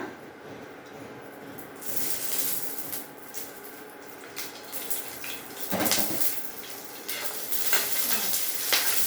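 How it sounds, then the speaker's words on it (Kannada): Green chilies frying in oil in a pan, a continuous hissing sizzle that swells louder midway with stirring scrapes, close and steady without talk. "ಎಣ್ಣೆ ಹಾಕಿ ಈ ಥರ ಹುರಿತಾ ಇದ್ದೀನಿ ನೋಡಿ."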